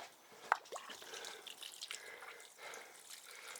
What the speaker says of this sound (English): You just water your banana, your peppers and that with it